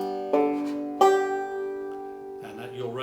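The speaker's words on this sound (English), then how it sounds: "you'll recognize that sound after a while as being the banjo sound" Banjo in tune, plucked in a few bright ringing strums with harmonic-rich notes that sustain and decay, followed by another strummed chord near the end.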